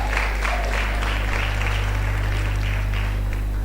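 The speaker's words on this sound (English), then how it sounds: "Please a round of applause for them." A hall full of academic staff at a food science induction ceremony claps steadily for several seconds, a dense, even wash of applause under a constant low electrical hum.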